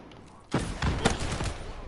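Shiva gun from Black Ops 3 firing from the hip, a sudden burst of several quick, loud shots after a quiet opening.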